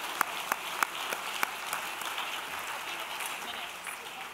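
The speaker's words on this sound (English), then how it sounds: "Give him a round of applause." Before a panel discussion, a room audience gives fairly quiet, distant applause. A few sharper claps stand out early, then a soft, even patter of clapping carries on for several seconds.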